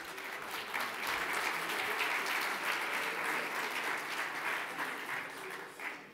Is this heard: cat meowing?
no